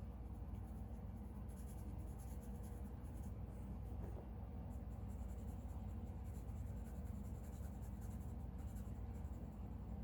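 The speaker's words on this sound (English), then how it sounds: "you absolutely can color with the nib tip" An alcohol marker's nib tip glides across paper while coloring greyscale, a soft, continuous close-up scratching that keeps up steadily with little variation.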